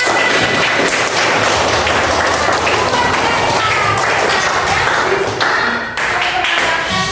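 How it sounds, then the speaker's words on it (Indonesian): Students in a classroom clap for a classmate, a loud, busy burst of hand claps with some thumps and scattered voices mixed in throughout. "Oke, tepuk tangan untuk Rehan."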